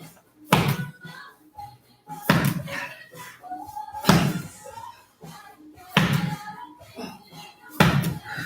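Five heavy ball slams land at a steady pace during a workout, each a loud thud followed by a short bounce and rattle, with a person talking faintly between impacts.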